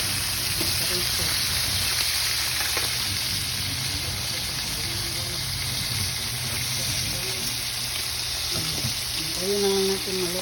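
Dried danggit fish frying in a pan, a steady dense sizzle and crackle running throughout at close range, with voices talking over it near the end.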